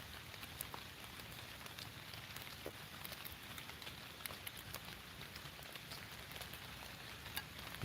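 Steady rain falls on a wet morning in the woods during a squirrel hunt, a dense even hiss with scattered sharper drop ticks, constant and fairly faint throughout with no one talking.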